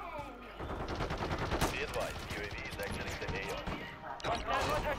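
Rapid bursts of automatic gunfire from a Call of Duty match crackle almost continuously, with players' voices talking over the shooting throughout.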